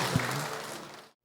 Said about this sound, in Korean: 하나님께 영광의 박수 올리시겠습니다